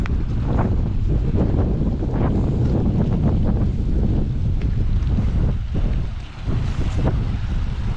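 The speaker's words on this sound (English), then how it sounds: "wind's gone up, and it is breezy" Strong breeze gusts across the microphone beside a High Sierra lake, a loud, continuous low rumble and buffeting that dips briefly near the end before surging again, with no voices.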